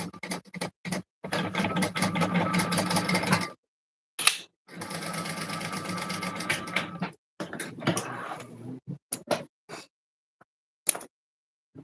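A sewing machine stitches a Juniper Clasp wallet in several bursts of rapid mechanical chatter, close and fairly loud, separated by pauses filled with short clicks and handling knocks.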